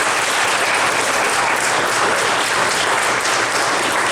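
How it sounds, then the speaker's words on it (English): Audience applause fills a Quilts of Valor ceremony, a dense, steady wash of clapping held at full strength from start to finish with no voices above it. "I think you deserve a big round of applause for what you do."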